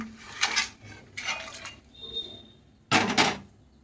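Goat head pieces go into a metal pot of hot water, making three bursts of clanking, scraping metal with a short ringing clink between them, close and loud with no talking.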